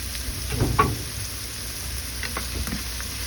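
Onion and garlic frying in a pan for tofu steak give a steady close sizzle, with a few soft stirring bumps near the start and no talking.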